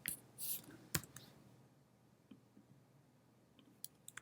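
A computer mouse double-click heard as sharp, quiet clicks near the start, followed by faint scattered clicks and soft handling noise in a quiet room.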